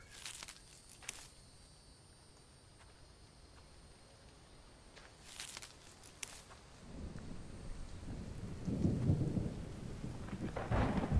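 A thunderstorm in the survival video game The Infected: steady rain hiss with a few sharp cracks, and rumbling thunder building up loud and low toward the end; no one talks.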